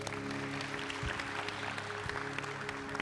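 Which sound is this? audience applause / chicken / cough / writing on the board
audience applause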